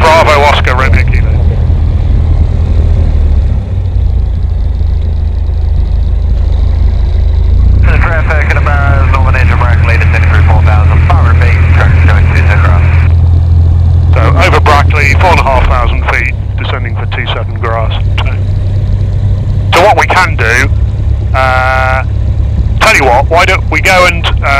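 Light aircraft taxiing toward runway 06 during a flying lesson, a steady loud propeller engine drone running throughout, with radio chatter and cockpit voices talking over it in bursts.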